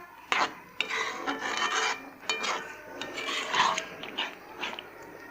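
A spoon stirs dhaba-style matar keema in a cooking pot, making repeated rasping scrapes against the pot that continue, close and fairly loud, with brief pauses and no talking.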